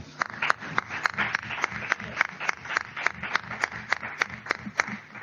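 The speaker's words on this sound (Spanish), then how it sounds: "Pues entonces damos un aplauso." Audience applause after a lecture at a UNED centre in Galicia: a modest indoor crowd clapping in a dense, steady patter of close, sharp hand claps with no talk over it.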